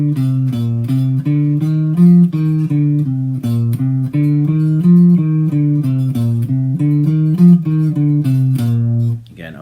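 An electric guitar picks a major scale exercise in groups of four with alternate picking, a quick, even run of single notes climbing and falling stepwise, clear and close with no other sounds.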